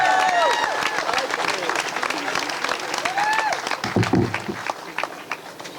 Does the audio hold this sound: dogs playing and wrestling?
no